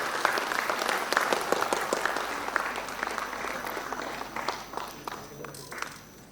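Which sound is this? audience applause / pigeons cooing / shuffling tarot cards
audience applause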